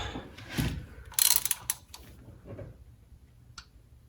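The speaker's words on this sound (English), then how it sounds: "You're going to need your 6mm Allen key socket fitting there." A ratchet with a 6mm Allen key socket works engine bolts loose on a Nissan 300ZX Turbo during intake manifold removal, giving short, close bursts of rapid clicking separated by quiet pauses.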